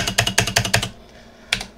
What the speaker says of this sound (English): Now let's click P on our keyboard and see what that does.